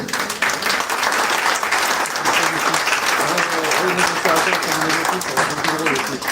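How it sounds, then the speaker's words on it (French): An audience at a public information meeting applauds steadily, a dense wash of many hands clapping at full strength for several seconds. "Je pense qu'on peut les applaudir."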